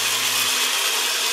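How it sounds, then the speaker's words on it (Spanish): A blender whirs at full speed while blending salsa macha, a steady loud motor whine with a grinding hiss, running continuously throughout. "Y pues nada más va a ser cosa de poner esto a licuar"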